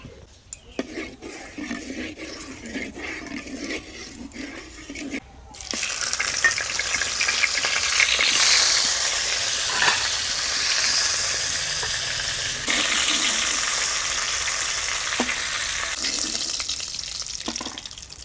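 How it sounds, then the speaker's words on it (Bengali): Loud, steady sizzle of a fish head frying in mustard oil kicks in after a quieter opening, crackling continuously with occasional spatters. "মাছের মাথাটা ভেজে নেবো"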